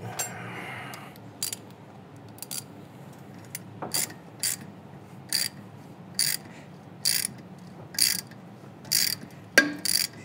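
A ratchet on a 2015-2019 Subaru WRX turns a bolt to push the brake rotor off the hub, making about ten short bursts of sharp clicking, evenly spaced and close in a quiet garage.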